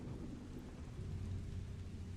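Low thunder rumbles steadily beneath continuous rainfall on a stormy night, a broad dull roar with no voices.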